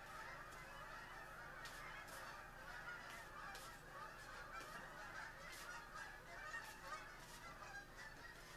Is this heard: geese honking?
yes